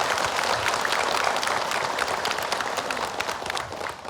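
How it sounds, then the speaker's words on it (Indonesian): A studio audience at a religious talk show bursts into dense, steady applause, loud and sustained before tapering slightly at the end, with no talking. "Tepuk tangan."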